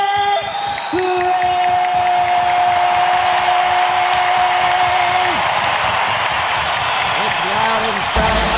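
A packed American Airlines Center hockey arena roars during NHL playoff Game 2 between the Minnesota Wild and the Dallas Stars. Loud, sustained cheering and applause fill the clip, with a long held tone sounding over the din.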